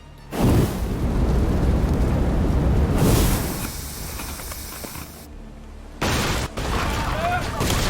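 Cannon fire in the video game Assassin's Creed Odyssey, a loud booming blast followed by long roaring, hissing rumble, with a second burst near the end; voices speak over parts of it.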